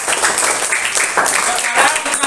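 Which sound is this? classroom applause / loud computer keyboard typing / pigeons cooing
classroom applause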